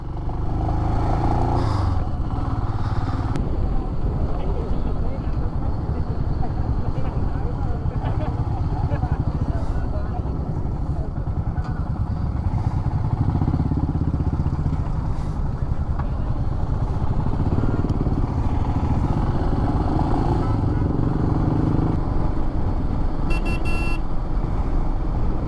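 A motorcycle is ridden along the road between Dongaon and Pune, giving a continuous rumble of engine and wind noise with occasional clatter. People talk over the ride.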